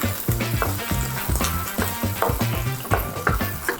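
Onion frying in very hot oil in a wok over high heat, a loud, close sizzle with rhythmic tossing and stirring knocks.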